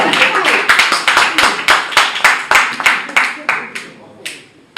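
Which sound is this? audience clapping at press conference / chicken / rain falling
audience clapping at press conference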